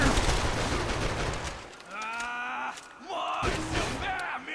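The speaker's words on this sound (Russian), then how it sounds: "В стену стреляет." Max Payne shootout with a gun fired at a wall, a loud burst of rapid gunfire at the start followed by further shots mixed with a bellowing, yelling voice.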